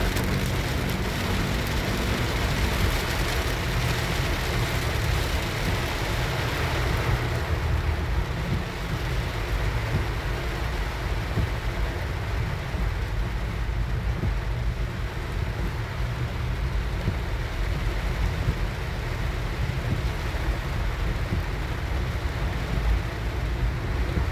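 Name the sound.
heavy rain while driving on Airport Road, Pasay City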